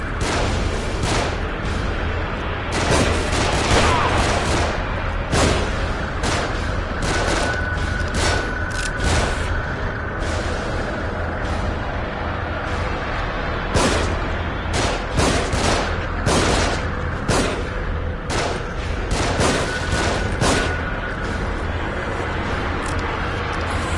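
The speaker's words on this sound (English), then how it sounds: "They're shooting from above." Enemy gunfire raining down from above in a survival horror video game, with rapid overlapping shots and booming blasts coming in dense volleys throughout, loud and continuous.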